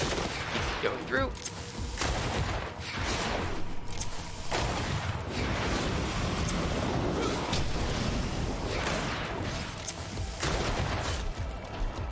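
Repeated gunshots and combat blasts in GreedFall, fast and loud and nearly continuous over several seconds, with game ambience mixed in.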